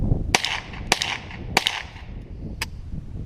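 Four sharp gunshots from a small .22 pistol ring out near a lake at uneven intervals, each crack loud and brief, with no talk in between.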